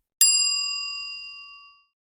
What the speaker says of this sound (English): The front desk had an old service bell. I tapped it once.